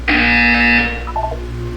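Loud electronic buzzer from the video game Portal 2, a single sustained harsh tone lasting under a second, followed by a short fading chime-like tail.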